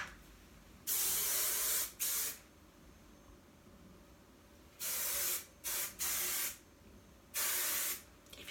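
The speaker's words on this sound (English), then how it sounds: "put a little bit of hairspray in." Hairspray fires from an aerosol can onto hair during a vintage wet-set brush-out, in several sharp hissing bursts of about one second each with short gaps between, fairly close and alone.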